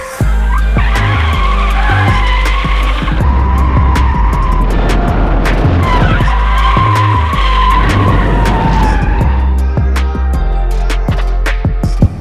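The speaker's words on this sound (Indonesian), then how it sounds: "Oke, kita baru aja selesai ngedrift di tikungan 16, tempat kita biasa ngedrift." A stock new Subaru BRZ drifts through turn 16 at Mandalika circuit, its tires squealing loudly and continuously with engine roar underneath for the whole stretch.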